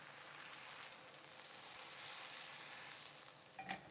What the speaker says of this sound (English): That sizzle is brilliant.